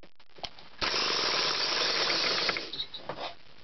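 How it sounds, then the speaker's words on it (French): An electric drill spins a magneto flywheel during an ignition coil test, giving a steady close whirring drone for about two seconds after a brief tap and start, then winding down with a few uneven bursts. "Avec une perceuse, je viens tourner mon volant magnétique."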